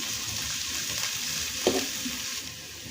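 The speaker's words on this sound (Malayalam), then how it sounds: "ചൂടായ എണ്ണയിലേക്ക് ചെറുതാക്കി അരിഞ്ഞു വെച്ച ക്യാരറ്റ് ചേർത്ത് കൊടുക്കുക. ചട്ടുകം കൊണ്ട് ഇളക്കി കൊടുക്കുക." Chopped carrots frying in hot oil for a mulberry pickle, a steady close sizzle with a spatula stirring and scraping through the pan and one brief louder clatter partway through, no voices.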